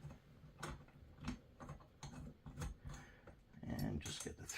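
Bolts being hand-threaded while assembling a GarveeHome power recliner chair give off light, irregular metallic ticks and clicks, close and fairly soft, with some speech mixed in.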